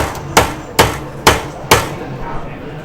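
A hammer taps four times in an even rhythm, each sharp close knock ringing briefly before fading, with a quieter knock after.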